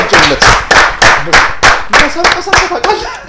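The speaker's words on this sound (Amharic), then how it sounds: "አንድ ለጆ አጨብጭቡለት" A studio audience claps for a contestant on an Ethiopian talent show after correct answers about the masenqo, a traditional instrument. Loud, close, rhythmic group clapping in steady beats that runs throughout, with a voice faintly underneath.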